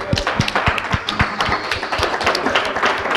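An audience claps at a live French event as guests are called up, giving a steady patter of applause with a few heavier taps and thumps that stays close and moderately loud for about three seconds.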